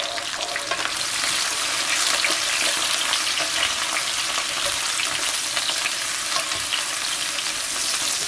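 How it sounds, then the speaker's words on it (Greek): Mushrooms and garlic fry in a pan with a steady, dense sizzle that stays loud and even throughout, with occasional stirring and no voices. "Θέλουμε να τηγανιστούν λίγο με το σκόρδο."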